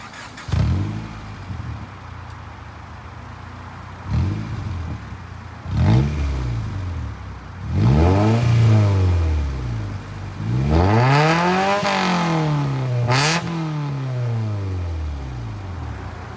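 A 1997–2001 Honda Prelude with stock exhaust, header and midpipe but no muffler is revved repeatedly, each blip rising and falling, with longer, higher pulls toward the end, loud and close.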